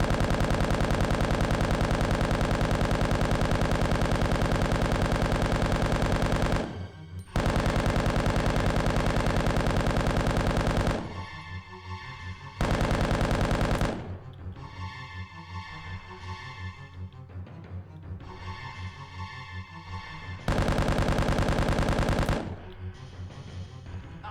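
Rapid automatic gunfire from Resident Evil 1.5, sustained loud bursts of shooting at flames broken by short pauses, with a few quieter stretches of game ambience between volleys.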